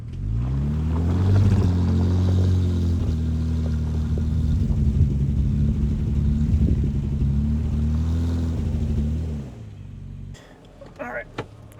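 Jeep in two-wheel drive reversing through a muddy trail, a steady loud engine rumble with revs that rise briefly, then cutting off near the end, with speech over it.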